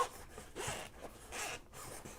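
Zipper on a Sony headphone case being pulled open, heard up close as several soft, raspy zipping strokes in quick succession, quiet and with no talk.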